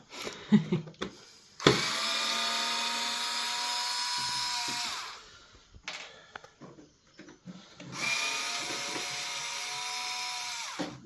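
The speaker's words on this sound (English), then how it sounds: "So let's undo those and have a look with our very expensive screwdriver." A small high-pitched electric screwdriver whirs in two sustained bursts, pitch sagging slightly as it backs out screws from a model street lamp, with short fiddly clicks and handling noises in between, close up and alone.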